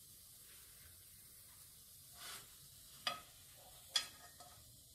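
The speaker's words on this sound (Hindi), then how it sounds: "ऐसे ही हम बाकी के बचे हुए स्नैक्स को भी शैलो फ्राई कर लेंगे।" Bottle gourd (lauki) snacks shallow frying in a pan, a soft steady sizzle with a few sharp spatters and stirring scrapes, quiet and close, no talking.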